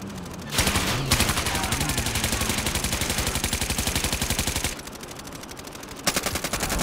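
Sustained rapid automatic gunfire in Call of Duty: Modern Warfare, loud and close, running in long unbroken bursts with a brief pause before firing resumes.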